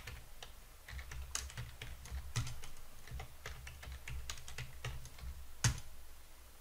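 Someone types a password on a computer keyboard, giving quiet, irregular bursts of key clicks with short pauses and no voices.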